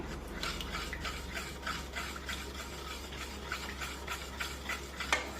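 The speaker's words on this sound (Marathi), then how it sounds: "अशा पद्धतीने आपल्याला व्यवस्थित बेसन पीठ या भाजीमध्ये मिक्स करून घ्यायचं आहे।" A spoon scrapes and stirs gram flour into a spinach gargata in a pan, making steady, rhythmic rasping strokes about twice a second at moderate volume, with no talking.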